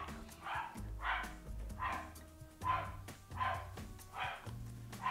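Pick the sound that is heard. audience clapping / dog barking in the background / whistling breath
dog barking in the background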